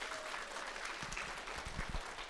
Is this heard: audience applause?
yes